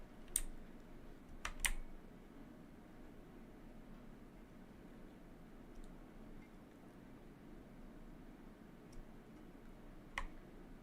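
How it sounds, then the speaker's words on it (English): A computer keyboard clicks in a few sharp bursts, a quick cluster of keystrokes early on and scattered single taps later, faint against a quiet background hiss. "That isn't the mouse clicking, that's my keyboard"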